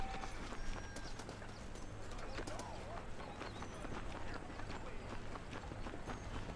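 Horse hooves clip-clop at a steady, rhythmic pace in Red Dead Redemption, moderately faint, with birds chirping and a low ambient bed beneath.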